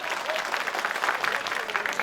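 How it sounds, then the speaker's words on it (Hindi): Audience applause at a mushaira, an Urdu poetry gathering, in Sakinaka, Mumbai, with a dense, steady clapping from a crowd continuing throughout. "ताली से इस्तकबाल दीजिए एक मरतबा।"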